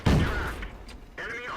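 Tank cannon fire in the World of Tanks game, a loud burst at the start with a rumbling tail, a second blast around the middle of the clip, and game effects continuing after it.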